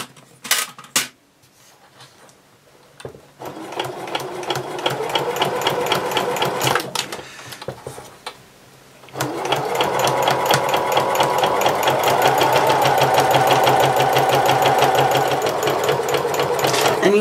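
Domestic sewing machine stitching Christmas napkins, starting with brief bursts and pauses, then running in long steady close whirring runs with a rapid needle rhythm, with a voice speaking over parts of it.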